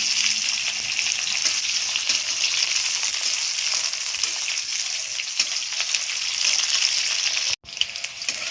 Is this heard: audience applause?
no